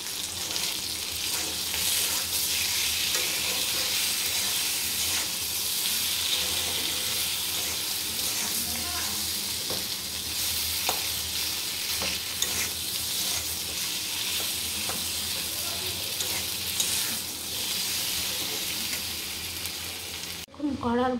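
Boiled bananas sizzle and fry in a pan while being stirred, a steady close hiss with occasional scraping and clatter, running continuously without talk until a brief bump at the end.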